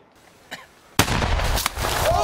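A Marine weapons cache explodes in Afghanistan with a sudden loud blast, followed by a couple of seconds of roaring, crackling debris and echo, after a faint earlier pop.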